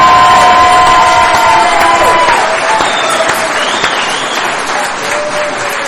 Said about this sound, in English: give them another big round of applause for all their hard work